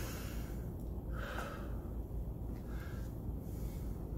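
Heavy, controlled breathing after a maximum aerobic power workout, with slow deep inhales and exhales repeating close up over a steady background hiss.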